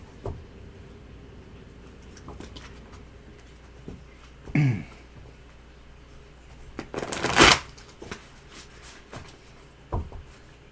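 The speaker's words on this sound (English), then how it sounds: "So why don't you shuffle first for Mama T," Playing cards are shuffled at a table in a couple of quick, crisp riffle bursts, the loudest near the end, with faint background clatter and no talking.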